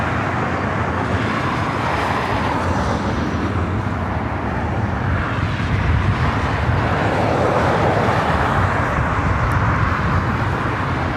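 A United Airlines Boeing 737 MAX 9 on arrival at LAX, inbound from SFO, produces a steady, even broadband jet roar with some wind buffeting that holds throughout, with no voices.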